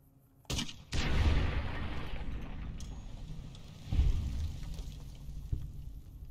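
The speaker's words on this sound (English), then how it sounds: "Explosions in Fallout New Vegas are the best." Explosions in the video game Fallout New Vegas, set in Goodsprings with dynamite: two heavy booming blasts a few seconds apart, each trailing off into a rumbling decay, fairly quiet overall.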